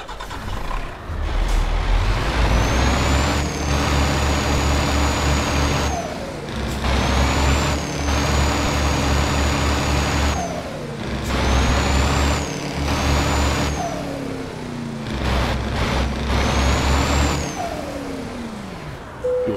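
Heavy truck driving in Euro Truck Simulator or American Truck Simulator, its loud engine droning and revving through repeated gear changes with air brake hisses, steady and close with no talk.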